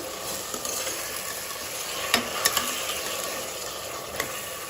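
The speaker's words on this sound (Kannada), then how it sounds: "ನಾವು ಟೊಮೆಟೊ ಹಾಕೋಣ. 2 ಟೊಮೆಟೊ ಹಾಕಿದ್ದೀನಿ ನಾನು." Tomatoes sizzling in a pan while being stirred for Hyderabadi chicken dum biryani, a steady soft frying hiss broken by a few sharp scrapes of the spoon.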